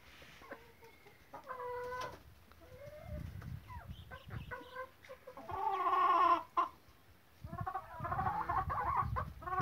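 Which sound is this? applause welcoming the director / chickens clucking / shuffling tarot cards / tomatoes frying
chickens clucking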